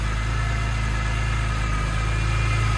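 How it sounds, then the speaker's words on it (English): A 2001 BMW E46 M3 Touring with the S54 straight-six and 6-speed manual, 86k miles, idles after a cold start with a steady, smooth, close-up hum and no revving or talk. "Just a nice, smooth running S54."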